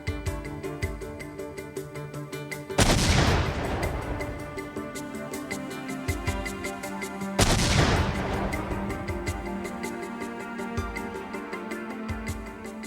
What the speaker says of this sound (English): Specialists recreated and detonated the bombs.